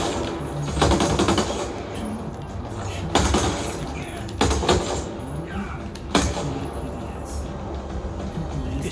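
Sniper gunfire in the video game Ghost Recon Breakpoint, with several loud, sharp cracks spaced a second or two apart over dense, rumbling game noise.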